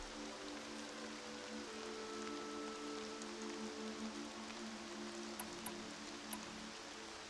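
Soft, steady rain in Horizon Zero Dawn hisses over a low, sustained musical drone, with a few faint crisp ticks near the end.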